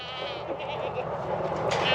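A goat on a farm bleats under and between a person's nearby talking, a wavering nasal cry that rises near the end.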